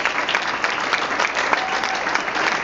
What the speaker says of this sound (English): you can applaud her as Carla walks up